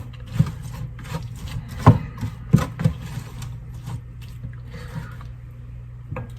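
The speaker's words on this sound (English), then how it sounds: "So I'm stirring this up." Spoon stirring steak batter seasoned with pepper in a bowl, soft scraping and rubbing with a few louder knocks against the side, close and fairly quiet.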